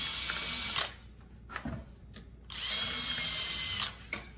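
A cordless drill buzzes in two steady bursts while sharpening a chainsaw chain, separated by a short pause with a few faint clicks and knocks, loud and close, with no talking.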